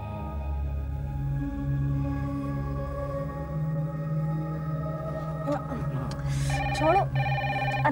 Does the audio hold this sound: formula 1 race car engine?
no